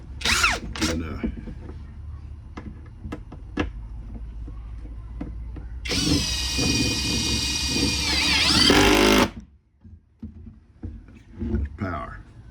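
A power drill drives outdoor deck screws, a loud, close, high whine lasting about three seconds that cuts off sharply, with someone talking before and after it.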